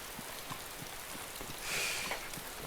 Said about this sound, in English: waiting for the rain to stop